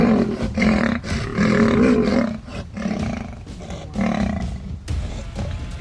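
Two lions fighting on the savannah, roaring loud and close in long, repeated bursts that rise and fall with brief gaps between them.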